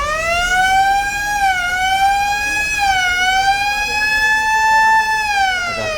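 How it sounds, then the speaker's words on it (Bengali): A siren wails steadily at a Barisal launch terminal, its pitch rising and falling in slow sweeps, loud and continuous over faint background rumble. "সাইরেন দিচ্ছে"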